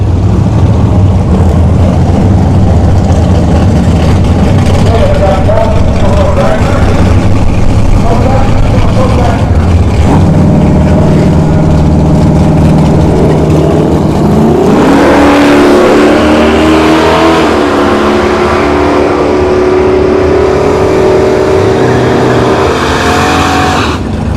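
Drag-racing cars, including a Camaro SS, launch down the strip at an NHRA bracket event at Bradenton Motorsports Park. Loud engines rev and roar with rising pitch as they accelerate, and an announcer talks over the racket.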